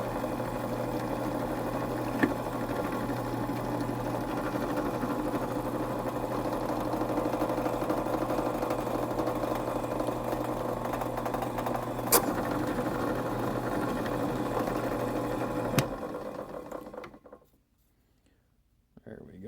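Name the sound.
drilling machine running, drilling a hole for a pocket knife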